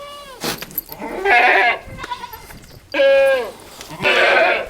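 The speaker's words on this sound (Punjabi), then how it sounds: "ਬਹੁਤ ਸੋਹਣੀ ਬੱਕਰੀ ਹੈ" Two loud goat bleats, each a long wavering cry from a nanny goat, with quieter background voices and farm noise between them.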